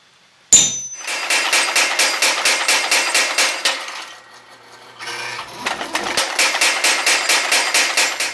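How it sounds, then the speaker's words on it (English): Rapid, steady hammer blows forging steel lugs for a katana habaki, loud and close, pausing briefly in the middle before the rhythmic strikes resume. "We have the lugs forged down to approximately half the thickness of the parent bar."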